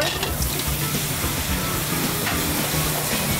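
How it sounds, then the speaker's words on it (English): Clams with garlic and white wine steam in a pan in a restaurant kitchen, a steady loud hiss and sizzle running throughout without speech. "We're going to steam it and a little bit of white wine."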